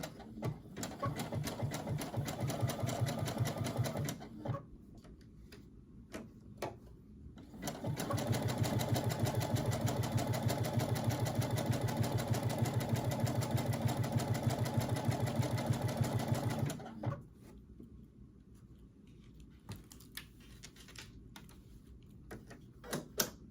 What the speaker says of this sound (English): I'm actually sewing right at the edge where I folded under